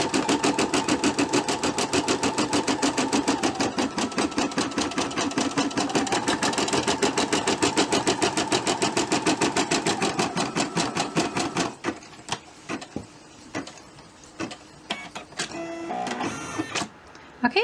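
An embroidery machine sews a tack-down stitch for an ornament design, a fast steady mechanical needle chatter that later breaks into slower, intermittent bursts and clicks, with no talking.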